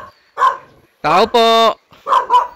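Dog barking at a house in a remote spot in Cavite: a few short barks and a longer yelping whine, loud and close, with a man's brief speech in between.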